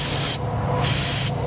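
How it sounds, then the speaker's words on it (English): Carb cleaner sprays onto a reefer unit in two short, close hissing bursts with a brief pause between, then a third burst beginning at the end. "I recommend you use carb cleaner on this rather than brake clean or ether"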